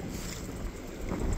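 Strong wind buffets the microphone outdoors on a fishing boat, a steady, loud, rumbling roar that swells slightly toward the end.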